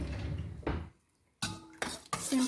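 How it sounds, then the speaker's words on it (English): A spoon stirs kombucha in a glass container, giving a few quick clinks and scrapes of metal on glass. The strokes are close and quiet, separated by short pauses. "Simple stir to transfer all the flavor into the kombucha."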